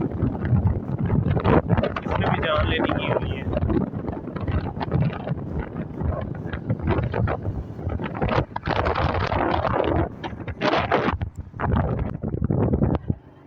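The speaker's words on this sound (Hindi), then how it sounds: "इतनी गर्म हवा चल रही है" Hot summer wind in Lodhran buffets the microphone in loud, gusty rumbles that come and go, with a voice briefly speaking over it.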